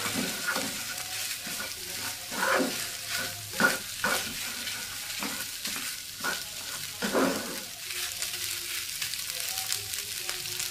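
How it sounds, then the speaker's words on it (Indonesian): Nasi goreng pete fried rice stirred in a sizzling pan, repeated scraping strokes of a spatula at an uneven rhythm over a continuous close frying hiss. "Nasinya diaduk lagi"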